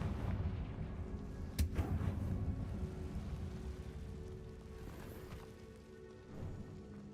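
A Confringo spell blast in a magic video game produces a sharp explosive crack, then a rumbling, crackling decay over a low, dense game ambience.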